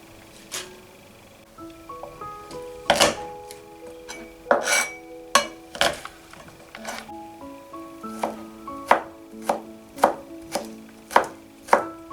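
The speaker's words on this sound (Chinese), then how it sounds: "菠菜清洗干净以后切成小段" A kitchen knife chops fresh spinach into short lengths on a cutting board, with a steady series of sharp, close knocks that grow more regular toward the end, with no talking.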